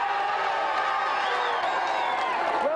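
A studio audience at a video game show cheers and whoops loudly and continuously, with scattered shouts and some applause in a dense crowd roar.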